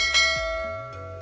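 A bell chime from a subscribe notification sound effect rings once near, with a bright strike followed by a sustained, slowly fading metallic ring.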